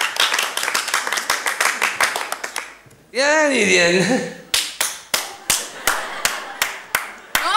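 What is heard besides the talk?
hand clapping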